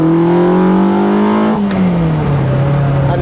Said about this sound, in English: Let's give it a quick revs.